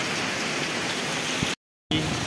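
Dense, heavy rain pours steadily and close by, with a brief gap of silence before the downpour resumes.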